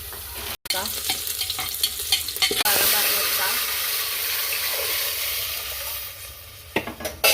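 Onions and spices fry for chicken biryani, giving off a loud, steady hiss and sizzle after a few stirring clatters at the start, with a faint voice now and then.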